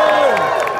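Crowd cheering and whooping at a fan convention panel, a brief loud burst of voices lasting under a second.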